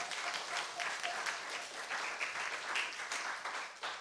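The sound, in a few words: congregation applauding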